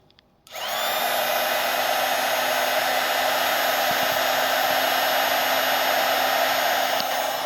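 A heat gun heating a wire connector on a 2024 Ford Maverick mirror harness switches on after a brief quiet moment, then blows with a loud, steady whooshing hum and whine that holds constant throughout.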